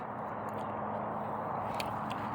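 A dog chews steadily on a plastic giggle ball toy, making a close, continuous gnawing and crunching noise with no voices over it.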